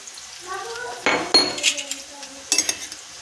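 Onions sautéing in a pan during home family cooking, a soft sizzle under sharp metal clinks and scrapes of a spoon stirring against the pan, a few bright strikes close by.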